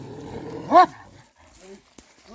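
A large dog lets out one loud, sharp bark nearby, followed by quieter yelps and short vocal noises in an otherwise calm space.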